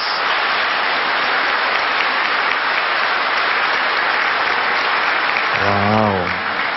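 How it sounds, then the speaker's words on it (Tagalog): Sunday Mass congregation of Filipino worshippers applauding loudly, a dense, sustained wash of clapping throughout, with a voice calling out briefly near the end. "pumalakpak ng malakas"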